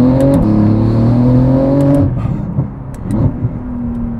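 A Porsche 911 GT2 RS engine, loud and close, holds a steady rising note for about two seconds, then drops away under road and wind noise as the throttle eases.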